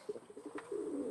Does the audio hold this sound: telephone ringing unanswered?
no